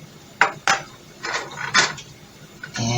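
A utensil clanks and scrapes against a cooking pot while onion and minced garlic are stirred, giving several distinct metallic knocks with soft sizzling in between.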